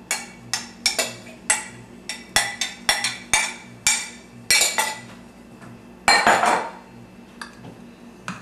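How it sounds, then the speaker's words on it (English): A big spoon scrapes and clinks against a bowl while liquid is stirred into a thick dry mixture for Joan Bars, giving a series of sharp, close metallic knocks in an uneven rhythm with a louder scraping burst near the end. "get a big spoon, and we take our liquid, add it to the dry mixture"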